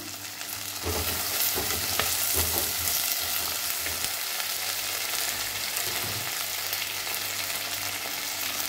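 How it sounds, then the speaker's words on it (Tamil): Okra frying with softened onions in a pan for tamarind curry. A steady, loud, close sizzle runs throughout, with a few spoon stirs near the start. "இப்போ நம்ம வெண்டைக்காயை போட்டுக்குவோம்"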